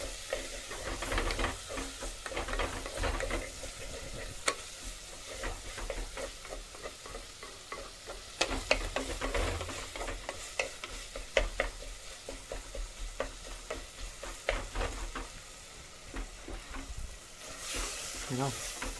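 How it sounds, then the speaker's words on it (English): Tomatoes being mashed and stirred into a pan of ghee, curry leaf and red chili, a soft irregular run of wet squelches and spoon scrapes over a faint sizzle, fairly quiet and close. "So next I'm going to add tomatoes. We're going to mash it up."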